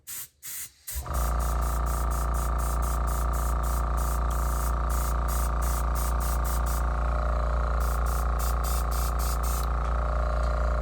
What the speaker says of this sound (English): I could get pretty carried away with the airbrush.